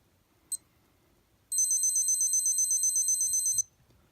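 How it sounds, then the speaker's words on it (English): A Seiko Wired Solidity AGAM404 alarm clock gives one short beep, then after a pause a sustained, rapidly pulsing high-pitched electronic warble lasting about two seconds, clear and close in a quiet room. "it beeps to count down, and you get that nice warble"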